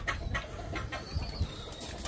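Caged pigeons give soft low coos, with brief wing-flapping bursts and faint higher bird calls around them, fairly close and without any talk.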